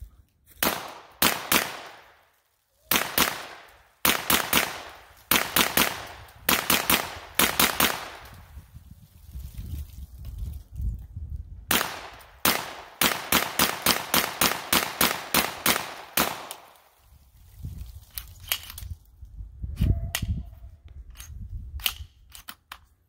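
A new Kel-Tec Sub 2000 carbine fires in sharp, loud reports, first in spaced single shots and then in quicker strings of rapid fire with brief pauses between groups, each crack ringing out close and alone.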